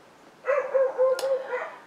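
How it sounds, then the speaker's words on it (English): Dogs bark briefly indoors in the background, a quick string of about four soft, muffled woofs, then silence. "Sorry about the dogs."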